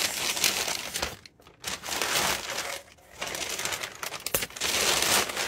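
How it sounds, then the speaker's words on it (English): Plastic packaging crinkles and rustles close up while a box of sewing supplies is unboxed, bursts of crisp crackling broken by short pauses. "Sorry for all the crinkling."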